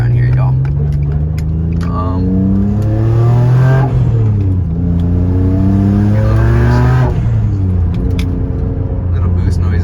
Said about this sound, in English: Little boost noises for you.